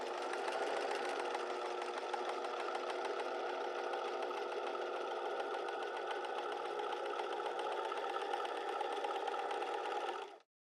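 A sewing machine stitches a square neck top in one long, even run, close and steady, stopping abruptly at the end with no talk.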